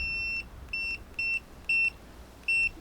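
An electric bike's horn sounds five short electronic beeps with a pure, high tone, each lasting a fraction of a second, spaced irregularly and alone over faint background hiss.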